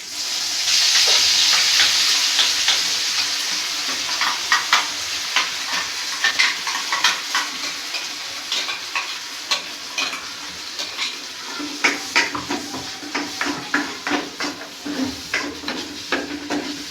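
Green masala paste with curry leaves hits hot oil in a pan, a loud initial sizzle that settles into crackling frying under repeated scraping stirs, close up, with no talking.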